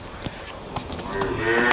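A Holstein Friesian heifer on a dairy farm gives a low moo that rises toward the end over a busy, noisy farmyard background.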